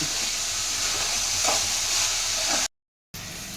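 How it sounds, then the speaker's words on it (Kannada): Vegetables frying in a pan for vegetable fried rice, a steady loud sizzle with stirring that runs unbroken and then cuts out to a brief silence before resuming. "ಸ್ವಲ್ಪ ಫ್ರೈ ಮಾಡ್ಕೊಳ್ಳೋಣ. ಜಾಸ್ತಿ ಫ್ರೈ ಮಾಡ್ಕೊಳ್ಳೋದು ಬೇಡ."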